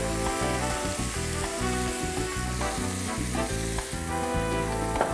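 Marbled pork stir-fried with dried cabbage sizzles steadily in a hot pan, a continuous bright crackle running the whole time beneath a rhythmic backing of music.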